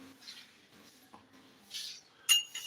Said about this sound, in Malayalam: ഐസ് ക്യൂബ്സ് ഇട്ട് അടിച്ചപ്പോൾ തയ്ക്കാനേ ആയിട്ടില്ല കേട്ടോ